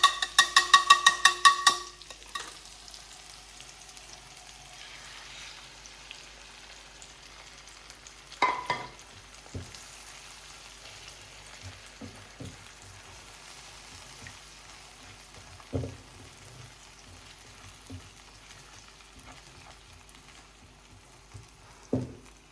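Eggs frying with mashed tomato in a pan, with a soft, steady sizzle and occasional stirring scrapes and taps spread over the whole stretch, close by and without talk.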